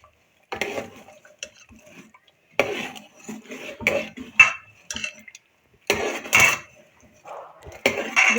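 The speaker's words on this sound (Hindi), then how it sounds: "इसको मिक्स कर देते हैं।" Gravy for tikka masala being stirred in a pot, with intermittent scraping and clinking of a spoon against metal in several short bursts separated by quiet pauses, close by.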